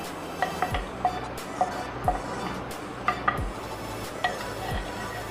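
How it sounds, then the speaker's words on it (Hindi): Mutton with salt, cooking oil, onion and ginger-garlic paste sizzles in its own juices in a handi, with a steady low fry hiss and periodic sharp scrapes and clinks of a spoon stirring against the pot, close and moderate. "इसको इसके अपने पानी में ही अच्छी तरह भूनना है।"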